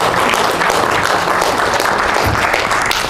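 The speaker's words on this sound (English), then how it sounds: "Give a huge round of applause," Audience applause at a corporate bank event welcoming a speaker on stage, a loud continuous wash of clapping that fills the whole stretch.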